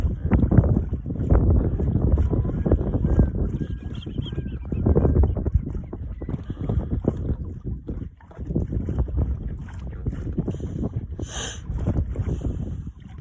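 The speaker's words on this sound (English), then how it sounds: "I'm sorry if it is really windy and you guys can't hear me" Strong gusting wind buffets the microphone on a lake while fishing from a small boat, a continuous low roar with surges, steady throughout and close.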